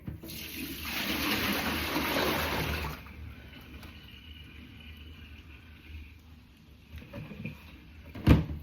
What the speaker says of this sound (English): let's tip this water away